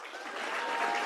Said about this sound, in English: let us thank you with our applause